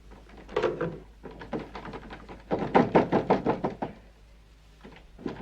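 Fists pounding on a door in bursts of rapid heavy knocks, a short flurry, a pause, then a longer loud volley before fainter knocks at the end.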